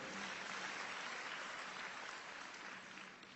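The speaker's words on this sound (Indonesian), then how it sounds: "Berikan tepuk tangan yang meriah" An audience at a church sermon breaks into steady applause, a continuous wash of clapping heard from a distance that tapers slightly toward the end.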